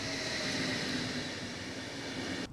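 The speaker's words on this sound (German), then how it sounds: "Jetzt kommt der Furtal Express." The Furtal Express special train arriving, a broad steady rumble and rolling noise close by, holding loud throughout before cutting off abruptly near the end.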